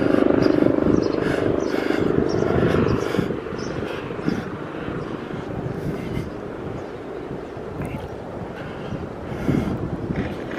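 A loud, steady roar of a helicopter passing overhead, rumbling and gusty, easing slightly after a few seconds but continuing throughout.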